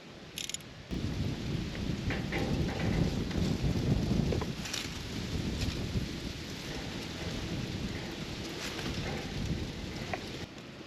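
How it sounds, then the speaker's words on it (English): Engine oil drains from a tractor's oil pan in a steady, splattering pour that sounds like heavy rain, lasting throughout after a brief start, with a low rumble underneath and no speech. "We have our oil draining out of the oil pan"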